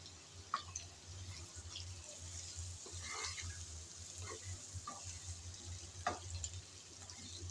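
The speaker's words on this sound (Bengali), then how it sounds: "পেঁয়াজ রসুন কিন্তু অনেকটাই ভাজা হয়ে আসছে এখন" Onion and garlic fry gently over low heat in a pan, giving a faint steady sizzle with scattered soft pops and crackles.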